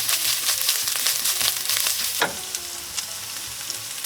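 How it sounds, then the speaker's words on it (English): Ground beef and vegetables stir-fry in a pan for kimchi fried rice. A loud, constant sizzle runs throughout, with a clear stirring clack partway through and a steady hiss afterward. "Toss them into the pan with the beef and stir fry until soft."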